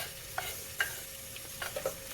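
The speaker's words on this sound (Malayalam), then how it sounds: "നമ്മൾ പച്ചക്കറിയൊക്കെ അരിയുമ്പോഴത്തേക്ക് ഈ ഉള്ളി ഒന്ന് വറുത്തെടുക്കാം." Two large thinly sliced onions fry and sizzle in hot oil, a soft steady hiss broken by a few light stirring scrapes.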